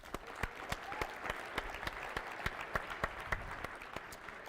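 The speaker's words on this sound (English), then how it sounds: "let's give that person a round of applause" An audience at the SAINTCON 2018 closing session gives a round of applause, a steady patter of clapping hands with individual sharp claps standing out, fairly even throughout and with no voices over it.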